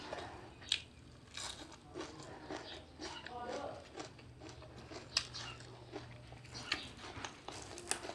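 Loud close biting and chewing while eating laab with khanom jeen rice noodles, repeated crunchy bites and wet squishy chews in an irregular rhythm, with soft voice sounds in between.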